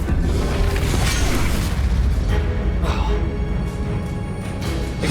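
A Confringo fire-blast spell in Hogwarts Legacy on Nintendo Switch sets off heavy booming explosions that roll over one another in loud, dense bursts, with rumbling debris and combat noise filling the gaps.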